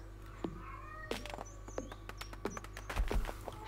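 A pet cat meows several times in short calls, with chirpy bird-like sounds from a Stardew Valley farm game playing underneath at moderate volume.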